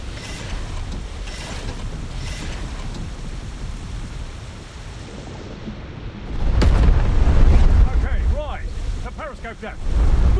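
A torpedo launch in the War Thunder Mobile naval game, heard as a deep, loud surge and rumbling whoosh partway through, set against steady ocean and engine noise with game voice callouts around it.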